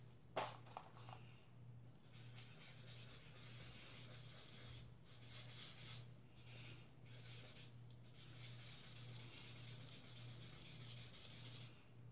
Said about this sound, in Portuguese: Só passar a borracha no que sobrou